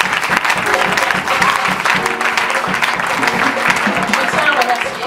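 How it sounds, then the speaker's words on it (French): A congregation applauding during a youth day church service in The Hague, loud sustained clapping from many hands that fills the room, with voices faintly mixed in. "Ik wil dat je klapt."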